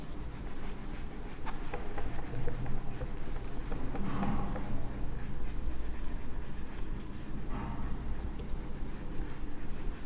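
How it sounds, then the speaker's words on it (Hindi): A steady, continuous rubbing and scraping of a board being wiped clean in a class 12 mathematics lesson, dense and close throughout the whole stretch, with no speech over it. "चलिए मिटाएं।"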